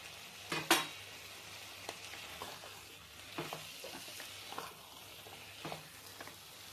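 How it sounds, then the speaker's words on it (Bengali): Young jackfruit sautéing in a pan for a creamy malai curry, with a soft steady sizzle broken by scattered scrapes and clinks of a spatula stirring, quiet and close with no voices. "সঙ্গে এঁচোড়টা দিয়ে সব একসাথে এবারে কষবো"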